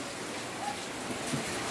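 Steady rain falls outdoors, making an even, soft hiss of drops with no talking over it.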